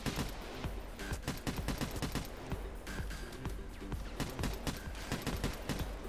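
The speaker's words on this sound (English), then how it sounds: "Look at that tap shooting." Rapid gunfire from the video game Payday 2, dense bursts of sharp close shots in fast automatic runs with brief gaps, loud and continuous across the scene with no talking.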